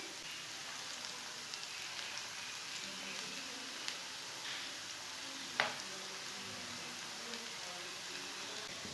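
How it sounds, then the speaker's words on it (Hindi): A chicken roll frying in a pan: soft, steady sizzling and crackle of hot oil with occasional small pops and a faint tap, quiet and continuous. "ये वाली साइड से भी 2 मिनट तक फ्राई होने देंगे।"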